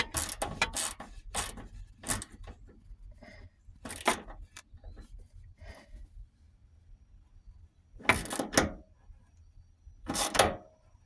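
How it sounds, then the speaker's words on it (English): A ratchet tightening a bolt on a newly installed car fuel pump, sounding as close, sharp bursts of rapid clicking separated by pauses, with quieter mechanical rattles in between. "With the new pump, got one more just to kind of tighten down a little bit."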